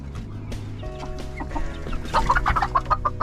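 A Bantam Cochin rooster clucks close by in a series of short, rhythmic calls, growing louder toward the end against a low rumbling background.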